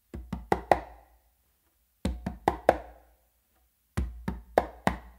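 A songo pattern played on two congas: three clear groups of four crisp hand strikes, bass, finger and close slaps, each group ending in two sharp slaps, separated by short pauses, close and alone with no talk.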